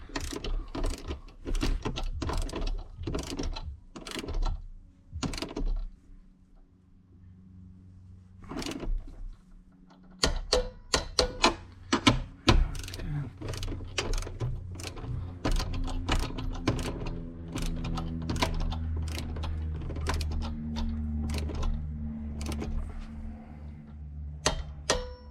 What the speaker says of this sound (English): So we'll grab the wrench to get on the bottom and torque those down.